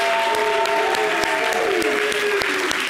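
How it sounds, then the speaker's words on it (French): An audience claps enthusiastically for a worship leader at a televised gospel show, dense applause running throughout with sharp individual claps and a sustained musical tone beneath. "Conductrice de louange, merci d'applaudir."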